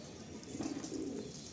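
A pair of golden-eyed pigeons, a male and a female, give soft low coos up close in a short quiet stretch with a faint background hiss.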